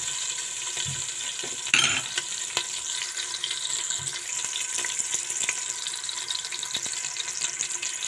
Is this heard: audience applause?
no